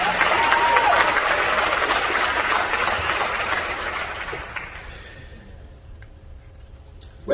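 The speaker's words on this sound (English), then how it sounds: "give yourselves a round of applause" Graduation audience applause at a UTT ceremony: a broad, dense roar of many hands clapping, loud at first and then thinning out and fading away over several seconds.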